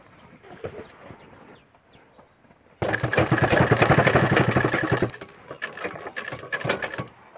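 A small sewing machine stitches the waistband of a pair of jeans, a dense rapid mechanical chatter that runs loud and steady for about two seconds, then breaks into shorter, fainter bursts of stitching.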